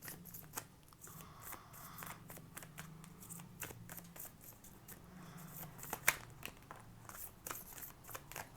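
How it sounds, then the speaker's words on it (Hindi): Tarot cards being shuffled by hand, a faint series of soft papery slides and small snaps with one sharper flick, quiet and close, no one speaking. "कुछ कार्ड्स हम और लेंगे।"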